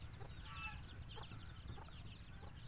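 A mother duck with her complete brood of ducklings in a pen gives off steady, high-pitched peeping and soft clucking calls over a low background hum, continuous for the whole stretch.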